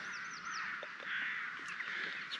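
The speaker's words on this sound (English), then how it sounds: "that includes crows." Crows caw repeatedly at a moderate distance during the early-morning dawn chorus on a coastal path, their harsh calls layered over steady birdsong with no voices present.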